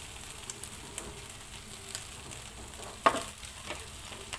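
Leftover rice from the night before fries in a pan for fried rice, giving a soft, steady sizzle with light scraping, plus one brief sharper clink or crackle near the end.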